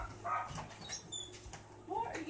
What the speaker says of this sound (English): What are you two barking at?